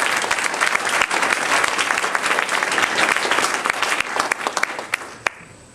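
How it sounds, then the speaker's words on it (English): A crowd at a political speech in Mississippi breaks into loud, sustained applause, dense and close, thinning to a few scattered final claps at the end. "I like that applause."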